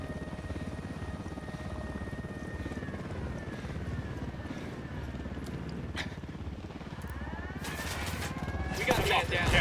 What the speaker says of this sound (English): Chopper's approaching. They're coming right at us.